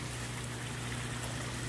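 Water flowing and trickling steadily in a fish pond, a continuous low burble with a faint hum underneath, close and without voices.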